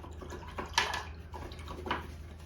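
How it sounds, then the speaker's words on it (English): A paintbrush gets rinsed in a container of water, with soft swishing and sloshing and a few brief splashy bursts under a low background hum, heard up close and fairly quiet. "I'll rinse this brush out."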